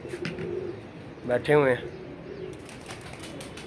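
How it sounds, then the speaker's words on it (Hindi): Pigeons perched on a rooftop ledge after bathing give a soft coo amid outdoor ambience, brief and moderately near, while someone talks nearby. "नहा के कबूतर बैठे हुए हैं"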